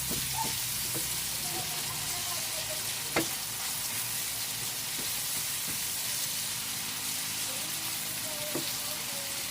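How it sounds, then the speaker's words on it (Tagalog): Escabeche sizzles steadily in a pan while being stirred. A constant frying hiss runs throughout, with a few light utensil clinks and scrapes. "halo haluin ng konti para lumasa"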